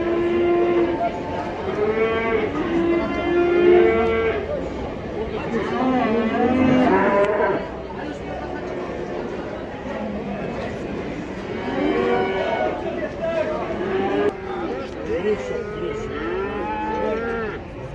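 Cattle and calves at a livestock market in Taraz low and moo repeatedly, several animals overlapping with long drawn calls amid a busy crowd murmur.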